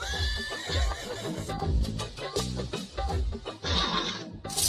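Mares neighing and whinnying at a stud farm, several loud, close calls rising and falling over about five seconds, with faint hoof clops and murmured voices in the background.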